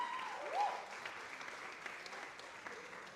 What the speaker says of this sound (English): Thank you for clapping him.